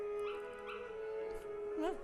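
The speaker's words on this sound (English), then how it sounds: "Oh, those puppies are so cute." Dalmatian puppies in the video game Kingdom Hearts give high, rising whimpers and yips in short bursts over a steady musical drone, with a final squeaky whine near the end.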